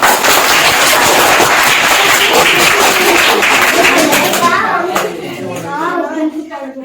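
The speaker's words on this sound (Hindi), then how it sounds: "देखो ताली बजाओ" A group claps hands together at an outdoor foundation gathering with children, a dense, loud burst of overlapping claps lasting several seconds before thinning out as voices take over near the end.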